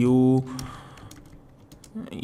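A computer keyboard clatters with quick light keystrokes as a feedback message is typed, following a brief burst of a man's speech at the start.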